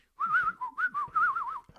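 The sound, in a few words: man whistling, imitating a drunk bird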